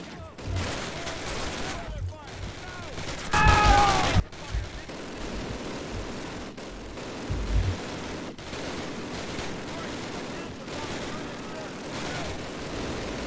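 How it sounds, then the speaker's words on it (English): Gunfire in the first Call of Duty campaign comes as bursts of shots and booming blasts, loudest in one heavy volley early on, over continuous battle noise. "The hell was shooting at me anyways?"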